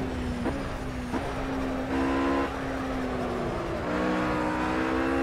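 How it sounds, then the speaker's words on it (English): A RUF RGT-8 GT3 race car in the Project Cars racing game at the Nürburgring Nordschleife, its engine whining up through the revs in rising sweeps, with sharp gear changes breaking the pitch several times, loud and close. "I love the sounds of these GT3 cars."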